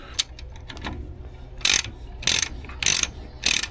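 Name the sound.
tightening spring compressors on a Ford Fairmont suspension strut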